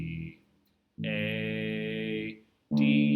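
Tuned bass guitar sounding sustained open-string notes: a short tail of one note, a clear pause, then a held low note ringing for over a second before fading, and another note struck at the end.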